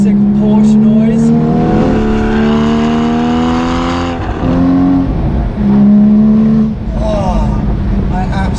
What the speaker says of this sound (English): The noise is gorgeous, and it does these incredible pops, and it's such like a classic Porsche noise.